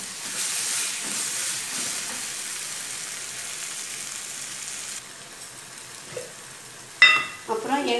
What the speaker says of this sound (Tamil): போட்டுட்டு தண்ணி ஊற்றாம நல்லா கொஞ்ச நேரம் வதங்கிடணும்.